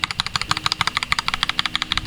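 The enter key on a cheap mechanical keyboard is pressed in rapid succession, producing a close-up string of sharp plastic clicks, roughly twenty in two seconds, with no voices.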